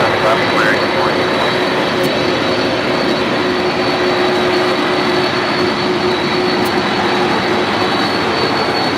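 A United heavy jet airliner at LAX roars with a steady, loud broadband rush of engine noise, a faint tonal whine held throughout, and voices audible beneath it.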